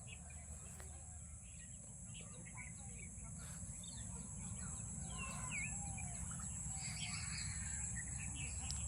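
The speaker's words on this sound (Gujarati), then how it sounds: "ચકલીઓનો અવાજ સાંભળો" Sparrows chirp in open village farm fields, many small scattered tweets near and far over a steady low hum of insects and ambient noise, continuing throughout with no talk.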